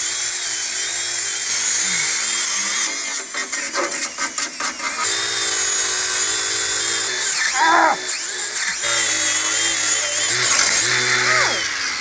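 A spinning wheel on a power tool scrubs an FJ40 frame, giving a loud continuous high whine with a steady motor drone, stuttering and grinding as it meets the metal at several points; close and harsh.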